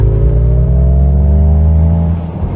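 An MG Cyberster electric sports car gives off a loud synthetic driving sound, a layered tonal hum whose pitch glides steadily upward and then fades near the end, heard alone.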